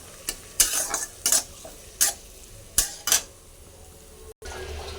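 Chopped onions frying in a pan for prawn malai curry, a soft sizzle under repeated sharp scraping and stirring clatters from a utensil against the pan, close and alone.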